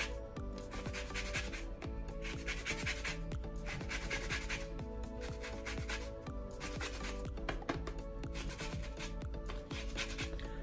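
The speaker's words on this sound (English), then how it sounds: "So we have a zest of a lemon." A lemon rubbed against a grater for zest, being checked as unwaxed fruit, giving steady rhythmic rasping strokes close up that repeat in regular bursts throughout, with no talking.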